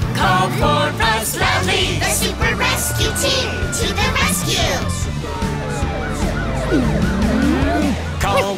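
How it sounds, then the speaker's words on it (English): A wailing ambulance siren rises and falls amid busy, loud music and voices, part of a lively children's animated car-song soundtrack. "Ambulance!"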